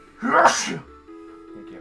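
A single sharp sneeze bursts out close by during a retro gaming show chat, followed by a brief spoken reply.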